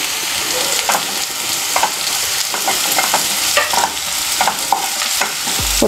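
Capsicum sizzles in a hot pan while a utensil stirs and scrapes it, the steady frying hiss broken by repeated clicks and scrapes close by.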